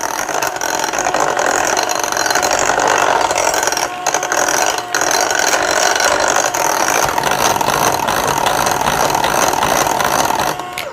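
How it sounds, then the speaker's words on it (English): Electric hand mixer whisking pumpkin spice bar batter in a bowl, a loud continuous motor whir with gritty beater scraping, running steadily with only brief dips and no talk. "Now let's turn it on and give this a good whisk."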